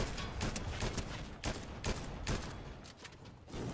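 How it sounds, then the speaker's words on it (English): Fireworks thrown in Fortnite Season 3 crackle and pop in a dense, rapid fusillade of loud bursts that keeps going across the whole stretch, like scattered gunfire. "Someone's throwing fireworks."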